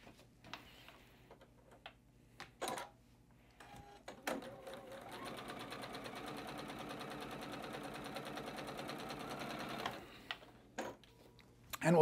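A sewing machine stitching batik fabric quilt blocks runs in one steady, rapid mechanical burst of about six seconds, with quiet handling clicks and taps before and after.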